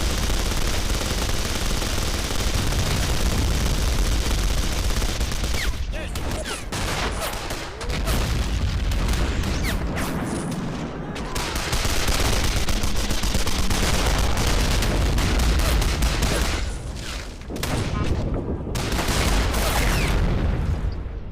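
Hand grenade explosions and gunfire in a World War II shooter battle, a dense, continuous barrage of shots and booms that stays loud throughout, with only brief dips.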